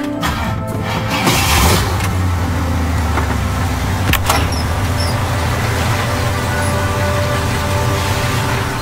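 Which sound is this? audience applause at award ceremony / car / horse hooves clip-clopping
car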